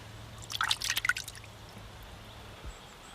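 Water drips and trickles back from fingers dipped into an outback waterhole, a quick cluster of small splashy drops close by, then quiet with one faint drip.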